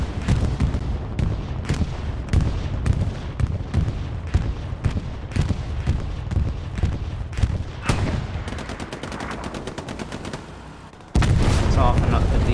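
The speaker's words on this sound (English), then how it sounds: "Like an R22R bombing run." Bombing run in the video game Hell Let Loose on the Utah Beach map: repeated booming blasts and gunfire in dense, irregular bursts, a rapid rattling volley near the end, then a sustained loud rumble, with voices faintly mixed in.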